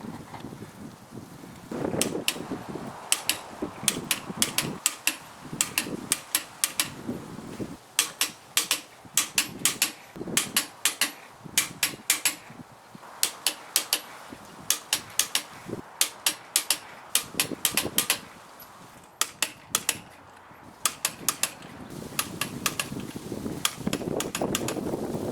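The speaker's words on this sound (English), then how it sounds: "Let's torque it down." Wheel nuts on an old Nissan Sentra being torqued down, a long series of sharp metallic clicks and ratcheting bursts in irregular runs, close and fairly loud, separated by brief pauses.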